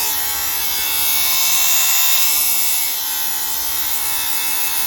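Rechargeable electric fabric shaver lint remover running steadily with a loud, close motor whine, its pitch shifting slightly as it moves through its speeds.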